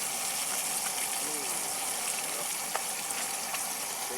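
Eggs frying in a pan, a dense, continuous sizzle and hiss that stays even throughout, with a few faint ticks and pops and a voice speaking briefly underneath.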